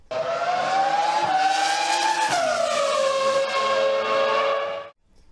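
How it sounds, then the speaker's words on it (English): A 2005 Renault Formula 1 car's V10 engine screams loudly and continuously, pitch climbing and shifting through gears, then cuts off abruptly near the end. "With the screaming V10."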